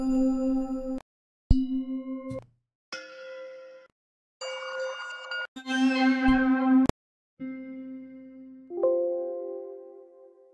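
Bell and vibraphone-style synth tones auditioned in FL Studio, a series of separate clanging, ringing notes with clean decays and short silences between them, some bright and metallic, others lower and mellower.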